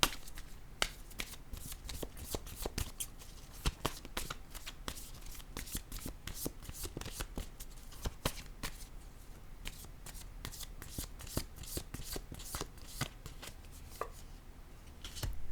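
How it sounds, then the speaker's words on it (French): Tarot cards shuffled and drawn for a reading, a long run of quick, crisp riffles and flicks up close, with irregular snappy bursts and soft card slaps and no talk. "je vais piger une autre carte ici pour avoir des détails"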